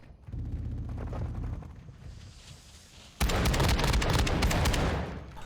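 Shotgun fire in a first-person shooter video game, loud continuous bursts of gunfire and booming blasts that grow denser and louder partway through, with a steady roar of game noise underneath.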